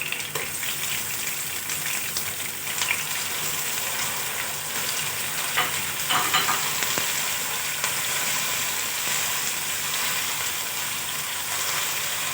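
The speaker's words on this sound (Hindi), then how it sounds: "अब मैं इसमें लहसुन अदरक का पेस्ट ऐड करूँगी।" Onions frying with garlic ginger paste in a pan for a pakora curry sizzle steadily and fairly loudly, with watery crackle and occasional stirring scrapes, no voices.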